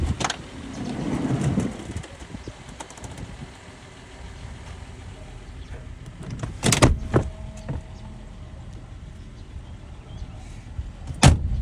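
Power windows on a 2006 Toyota Sienna CE minivan give short electric motor whirs between quieter stretches, with sharp clunks and thumps near the end, close and moderately loud.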